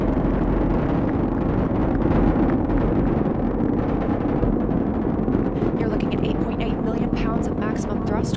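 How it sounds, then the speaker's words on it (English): The four core stage engines of the SLS rocket roar at maximum thrust during the Artemis 1 launch, a dense continuous rumble with crackle, loud and steady, with a narrator talking over it. "The four core stage engines are back at maximum thrust."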